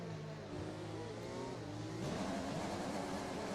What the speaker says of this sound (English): that's an awful rev glitch